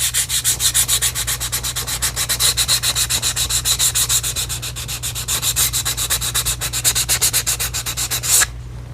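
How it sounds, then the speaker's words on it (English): One-piece Arizona custom grips are sanded by hand in quick, even back-and-forth strokes, a close rhythmic scratchy rubbing that runs steadily and stops abruptly near the end. "Don't do it too much, because you're literally sanding it."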